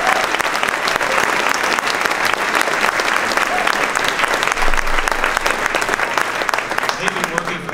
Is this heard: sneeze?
no